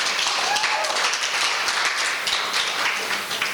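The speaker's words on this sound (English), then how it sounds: "Round of applause." Audience applause at a chamber of commerce leadership graduation, a dense, continuous wash of clapping from a room full of people, even and sustained throughout.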